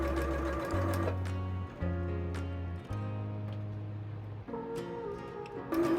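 A sewing machine hems a double gauze shirt in bursts of motor hum and needle chatter, broken by short pauses and ticks, close and moderately quiet.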